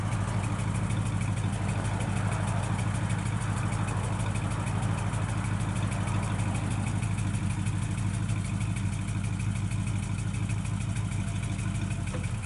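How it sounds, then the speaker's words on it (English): A 1968 Chevrolet Camaro with a 350 V8 idles through a stock-type muffler, a steady, even low exhaust burble recorded close up and continuous with no talking. "Sounds good out the exhaust."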